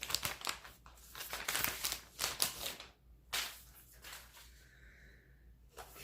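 Plastic wrapping on an iPad Magic Keyboard crinkling up close, in loud bursts of crackling rustle with short quiet gaps between handlings.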